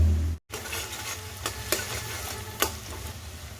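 Cumin seeds and ginger paste sizzling in hot oil, a steady close hiss with a short silent break near the start and occasional scraping clicks from stirring.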